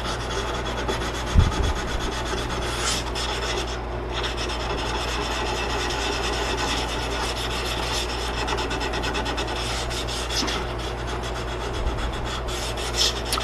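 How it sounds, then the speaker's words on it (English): Steady, close rasping of a sharpening stone worked over metal burrs, lubricated with mineral spirits, continuous back-and-forth grinding that runs evenly throughout with no talk. "I'm gonna stone these burrs down."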